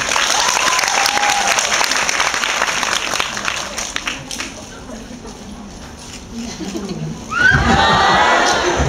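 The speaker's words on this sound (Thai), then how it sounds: "สียงปรบมือครับ" Applause rises from a crowd at a DVD launch day talk event with a band, loud at first, then thinning to a quieter stretch before a fresh burst near the end, with voices mixed in.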